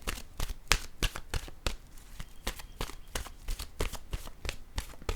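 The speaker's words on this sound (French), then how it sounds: "Je vais déposer une nouvelle carte" Playing cards are shuffled and handled up close, with a quick run of sharp riffling snaps and flicks that repeat at an uneven rhythm and no voices.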